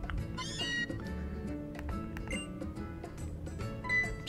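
Meowth meowing in the video game Pokemon Sun, a short cat-like cry over a busy, continuous game music backdrop, with brief tonal chirps rising above the steady score.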